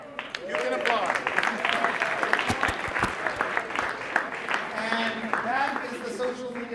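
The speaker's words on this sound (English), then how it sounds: "You can applaud." Workshop audience applauding at a social media session for journalists, clapping mixed with cheering voices and a speaker talking over the crowd throughout.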